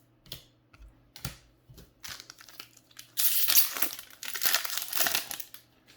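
Foil booster pack wrapper of trading cards being torn open and crinkled, a few sharp crackles at first, then a loud, sustained crinkling burst of plastic close by, with no talking.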